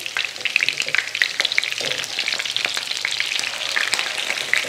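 Omelette burger patties sizzle steadily in a pan while frying on both sides for a McDonald's-style cheese omelette breakfast burger. The crackle is loud, close and continuous, with sharp spitting pops and no talking.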